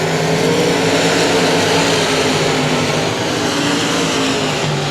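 Limited modified race cars circle the I-37 Speedway oval in a 20-lap race, their engines making a loud, steady, continuous roar with no pauses and no talk over it.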